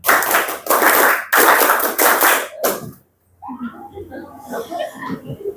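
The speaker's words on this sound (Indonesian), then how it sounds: "Tepuk 5 ditambah tepuk 2 dua kali." Group hand clapping in a counted rhythm game during a teacher training session: several loud bursts of unison clapping in quick succession, then a pause followed by people talking.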